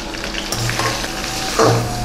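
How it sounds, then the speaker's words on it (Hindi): Beef fat sizzles steadily as it renders into ghee, with scraping spoon stirs breaking in at intervals over the continuous close-up frying crackle. "चर्बी का अच्छी तरह इसमें चमचा मारेंगे"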